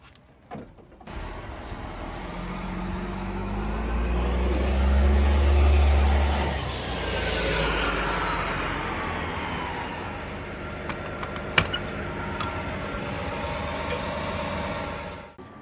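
A 2002 Liberty Prevost XL coach on a test drive: a heavy diesel engine pulls away and rises in a long, loud drone, then settles into steady road rumble with a few clicks and rattles from inside the cabin.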